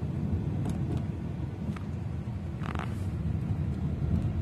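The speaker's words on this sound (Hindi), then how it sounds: "इनिशियल एक्सीलेटर मैंने प्रेस किया तो सीट के पीछे जो है गाड़ी पुश कर देती है" Cabin sound of a 2021 Skoda Octavia accelerating on a road: a steady low engine and road rumble with a few faint creaks and rattles, no talking.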